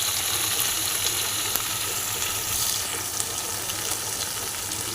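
Hot water is poured into chicken curry masala frying in a pan, a steady loud sizzle and hiss with a faint watery rush, no voices.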